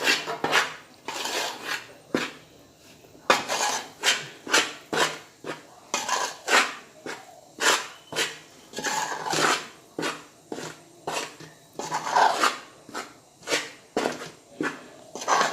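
A spoon stirs a hot methi dish in a pot, giving repeated scraping and clinking strokes in an uneven rhythm, close and moderately loud, with no voices.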